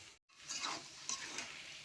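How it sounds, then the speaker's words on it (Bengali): Potatoes with spices sautéed in a pan, with soft scraping and stirring over a light sizzle, close and quiet, after a brief drop-out at the start. "আলুটা কষবো, তারপর পরিমাণ মতন জল দেবো।"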